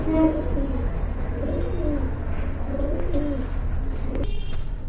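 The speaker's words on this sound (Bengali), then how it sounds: "আর এখানে কিন্তু এক জোড়া কবুতর রয়েছে" A pair of large grizzle-coloured pigeons at a pigeon sale coo steadily in repeated soft, throaty phrases, fairly close, over a constant low background hum, with no one talking.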